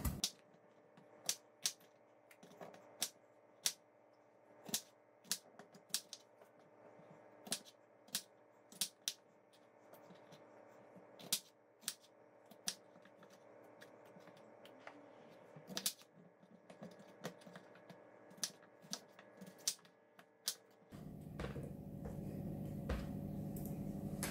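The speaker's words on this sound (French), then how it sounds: "on va couper grossièrement la pomme de terre" A knife coarsely chops potatoes for a mash served with roast leg of lamb: a steady run of crisp, close chopping taps on a board, then a broader rushing, watery sound takes over near the end.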